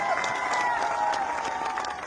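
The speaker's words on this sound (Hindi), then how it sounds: "ताली बजाओ।" A large crowd applauds at a political rally in Dausa, Rajasthan. The clapping is steady and dense, with a tonal hum or music running underneath throughout.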